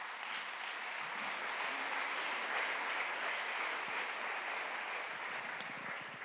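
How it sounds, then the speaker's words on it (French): Steady applause from a crowd, sustained clapping at moderate distance for several seconds without talk. "Je vous propose de l'applaudir de nouveau."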